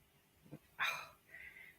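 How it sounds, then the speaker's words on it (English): A large 200-pound male Saint Bernard gives a brief single bark after a soft low huff, followed by a faint whine, heard quietly indoors. "big dog, 200-pound male Saint Bernard"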